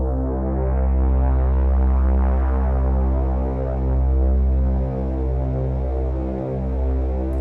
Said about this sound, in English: It's just a bass, but with a little bit of sawtooth in it